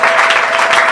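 A church congregation claps and cheers in loud, sustained applause during a French-language sermon, filling the whole moment without a break.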